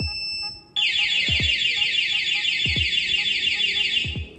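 A motorcycle anti-theft alarm, part of a Sniper 155 lights and horn setup, blares a loud, steady, warbling electronic siren for about four seconds after a brief tone, with faint low thumps underneath.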